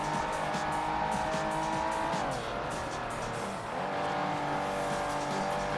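A car engine drones steadily in the PS1 racing game Ford Racing, with a sustained tire squeal over it and two brief drops in pitch as the car shifts or brakes.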